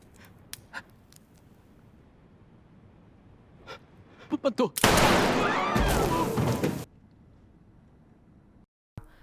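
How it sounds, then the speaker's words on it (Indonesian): A few sharp, quick gunshots crack in succession in an arena, followed by a dense two-second burst of loud noise before it drops back to quiet. "Suara tembakan bikin panik satu arena"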